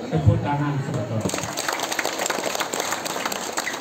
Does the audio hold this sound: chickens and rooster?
no